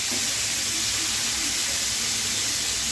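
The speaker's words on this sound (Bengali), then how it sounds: "আর চিকেন গুলো কিন্তু ভাজা হয়ে যাচ্ছে" Chicken pieces frying in hot oil for burgers and fries, a steady, dense sizzle and hiss that holds at an even level throughout, with no talking.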